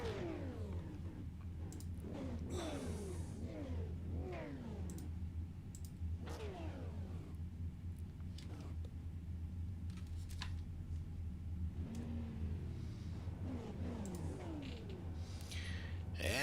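Super late model race cars idle and rev in a group before the start, engines blipping with repeated rising and falling whines over a steady low drone, somewhat distant and faint.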